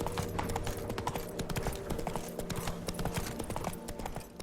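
Horse hooves trotting steadily in The Witcher 3 game, a continuous clip-clop rhythm with layered in-game ambience and music, close and consistent throughout.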